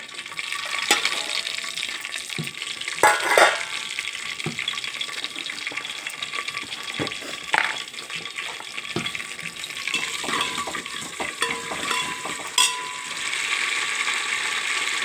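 Cumin seeds tempering in hot oil for dal, a steady close sizzle with scattered sharp crackles and pops running throughout, no voices.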